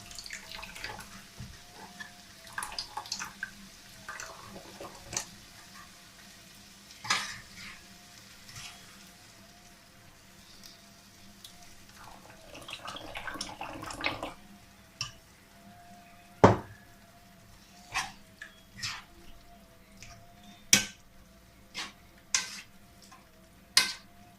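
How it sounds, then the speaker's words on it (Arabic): Tomato sauce going into a pan of fried minced meat for lasagne, with a soft sizzle underneath, scattered clinks and scrapes of a spoon against the pan, and a few louder sharp knocks near the end, close and without talk. "ودابا غادي نزيد مطيشه، لاصوص ديال المطيشه كما قلت لكم"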